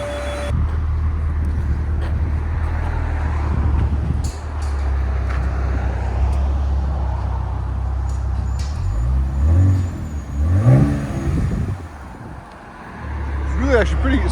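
A 2026 RAM 1500 with the 3.0L Hurricane inline-six and a muffler delete idles with a steady, fairly subdued low exhaust drone, and a voice talks over it throughout.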